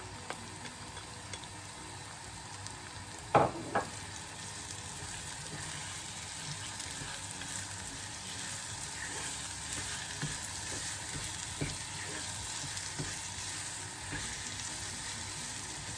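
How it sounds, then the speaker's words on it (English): Onions frying in a pan for a pepper sauce made from dried peppers, a steady close sizzle throughout with one sharp knock or clatter early on. "I'm going to go in with the onions. So basically I'm going to let those fry down."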